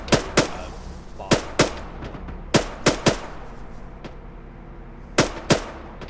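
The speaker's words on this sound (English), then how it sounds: "I'm actually thinking they're shooting past the Hesco." Gunfire in the military video game Arma 3 during platoon training: sharp shots in pairs and short bursts, with uneven pauses between them, some loud and close and some fainter with a ringing tail, and no voices over them.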